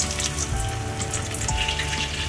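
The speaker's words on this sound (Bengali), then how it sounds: "আমার তেল গরম হয়ে গেছে কড়াইতে। এবার ধীরে ধীরে মাছগুলোকে আমি ছাড়ব।" Battered lote fish sizzles in hot oil in a wok, a dense, steady crackle and spatter that runs the whole time, loud and close with no talking.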